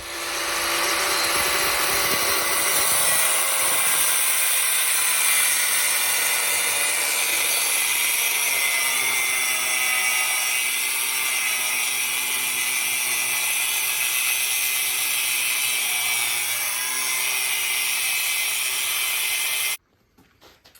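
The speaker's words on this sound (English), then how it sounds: "Just let the grinding disc do most of the work." An angle grinder's cutting disc slices steadily through rock guard material for a Yamaha Banshee, a loud continuous bright whine and rasp lasting about twenty seconds before stopping abruptly.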